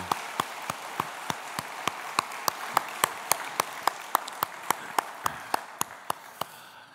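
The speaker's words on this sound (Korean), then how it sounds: "특별 박수를 한번 보내주겠습니다" Church congregation clapping in unison, a slow, evenly spaced run of about twenty sharp claps over several seconds, fairly close and clear with faint background murmur.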